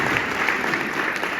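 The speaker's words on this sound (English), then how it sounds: "Let's give her a round of applause." Brief burst of steady audience applause at a memorial lecture, moderately loud and even throughout.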